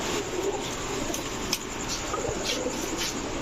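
Pigeons of an old breed coo softly in a low, steady murmur, with faint rustling around them and no talking.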